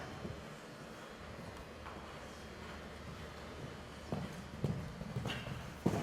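Horse cantering in a riding clinic arena, soft rhythmic hoofbeats against a low background hum, getting a little louder and more distinct toward the end, with no talking.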